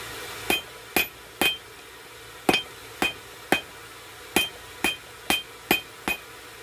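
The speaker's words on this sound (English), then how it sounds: "And then I'll forge the weld and try to make it blend in." A blacksmith's hammer forges a weld on a knife blade, giving about eleven sharp, ringing metallic strikes at an uneven pace. The blows are close and loud, with short pauses between them.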